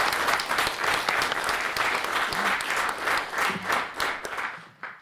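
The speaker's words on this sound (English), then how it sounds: "How about uproarious applause for everybody?" An audience at a symposium on devotional poetry gives sustained, full applause, a dense wash of clapping that holds steady and then tapers off at the very end.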